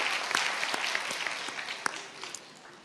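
A church congregation claps at the first service of a new church, a steady patter of many hands with a few sharper individual claps standing out, fairly close and continuous throughout.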